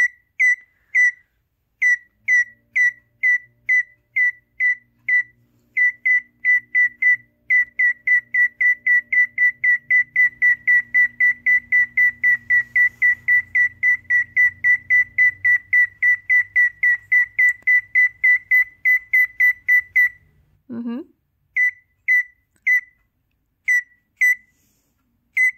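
A pet bird repeats a short electronic-sounding beep-whistle over and over in a steady rhythm, loud and close, with a brief swooping whistle near the end and a low hum underneath for a stretch.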